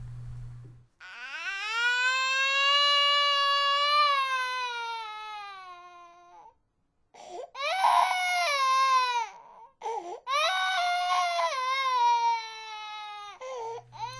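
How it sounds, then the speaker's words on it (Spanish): An infant cries in long, wailing bursts with a short pause between them. The cries are close and loud, and they carry on through the whole stretch. "De pronto, un llanto se hizo escuchar"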